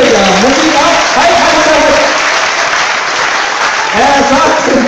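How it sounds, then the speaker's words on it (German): An audience applauds a breakdance group taking the stage at a Lauenburg community show, loud clapping and crowd noise running throughout, with voices and music-like tones layered over it. "Applaus für euch."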